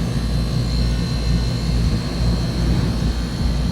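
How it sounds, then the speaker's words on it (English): A Lennox package rooftop HVAC unit's motor runs with a steady, broad mechanical roar and a faint constant whine, loud and unbroken throughout, with no voices. "No, the motor is working."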